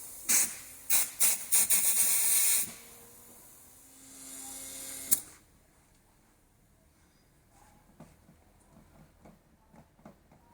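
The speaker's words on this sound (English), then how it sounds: "we'll leave that valve open so that way the rest of the air can escape out of the lines" Compressed air bursts out of the water lines of a Grand Design 2800BH travel trailer being winterized. Several sharp, loud hissing blasts are followed by a longer hiss that cuts off abruptly, then quiet handling noises.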